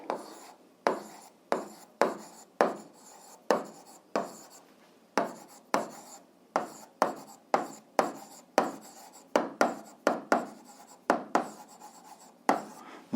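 Chalk or pen writing out a math formula for an eighth-grade algebra lesson on inverse proportionality, heard as a steady run of close, dry scratching strokes in quick repeated bursts, with no talking over them.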